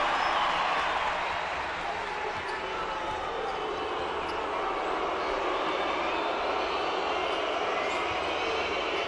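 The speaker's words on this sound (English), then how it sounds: "That booing is usually left for the early part of a possession, and then they kind of die down" Crowd booing at a 2015 FIBA Americas Championship basketball game between Venezuela and Mexico, a broad sustained roar of the arena audience filling the whole stretch at steady loudness.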